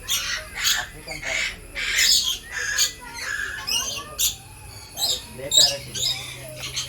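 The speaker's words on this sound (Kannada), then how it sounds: "African grey parrot." An African grey parrot squawks repeatedly, loud and close, in harsh bursts and whistly calls with a restless, irregular rhythm, while people talk in the background.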